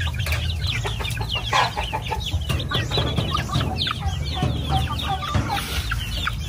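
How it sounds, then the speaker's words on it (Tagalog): Native chickens clucking and chattering while foraging on grass outdoors, many birds close by with continuous overlapping clucks over a steady low background rumble. "Tingnan niyo po yung ating mga pinakawalan katambayan, nag-i-enjoy na po sa labas."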